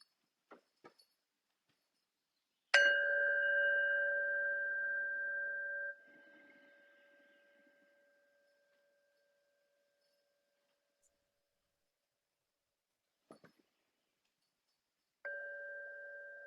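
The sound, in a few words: two strikes of a meditation bell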